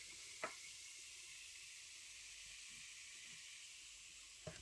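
Baking powder fizzing in vinegar while mixing dough for yeast-free pogaca, a faint steady hiss with two short taps, one near the start and one at the end, and no voices.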